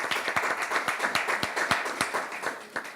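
Applause for the artist at an art exhibition panel discussion: a modest group clapping in a clear, fairly rhythmic pattern of distinct hand claps, close and moderately loud, fading slightly toward the end.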